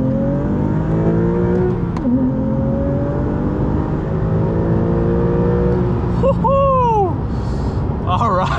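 A Porsche 911 Carrera T of the 991.2 generation drives along with a steady engine drone and rising revs through gear changes, heard from inside while someone talks over it.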